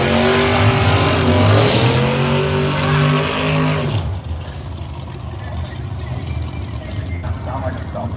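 Drag racing car at Bradenton Motorsports Park, its loud engine screaming up through rising revs for about four seconds before cutting to a rougher, quieter rumble, with a person talking over it.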